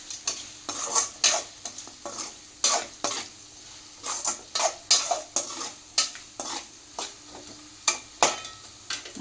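Bitter gourd frying with masala in a pan over a low flame is stirred repeatedly, each stroke a sharp metallic scrape over a steady soft sizzle, roughly two per second.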